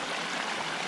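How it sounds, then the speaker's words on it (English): A small creek crossed on a hiking trail on a hot day flows with a steady, close hiss of rushing water, alone and unbroken. "Nice little creek."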